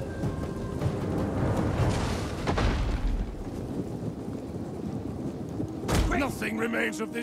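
Siege weapons fire at a city wall in the strategy game Total War: Attila, a few heavy booming impacts and a burst of crashing debris over a continuous dense battle rumble.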